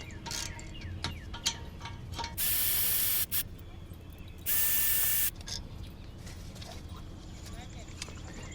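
A ratchet wrench loosens the 13 mm caliper guide pins on a Mercedes-Benz CLA250 front brake, giving two bursts of rapid metallic clicking amid faint garage clatter and quiet background noise.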